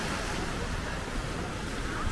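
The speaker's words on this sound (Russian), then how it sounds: "В общем, друзья, море." Waves wash onto a Spanish shore as a broad, continuous hiss of surf, with wind buffeting the microphone.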